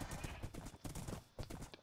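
Horse hooves clip-clop in Minecraft, a quick uneven run of soft, faint thuds.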